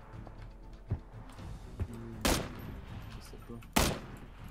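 Gunshots in the battle royale game PUBG Battlegrounds: a few isolated sharp shots at irregular intervals, two louder near the end, with brief talk in between.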